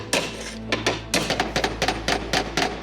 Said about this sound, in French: Et le perçage se fait avec le marteau.